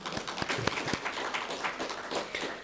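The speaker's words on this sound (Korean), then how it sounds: "하나님께 영광의 박수 한번 드릴까요?" A church congregation at a Korean sermon applauds with a dense, moderately loud patter of many hands, and a few sharper claps stand out near the start.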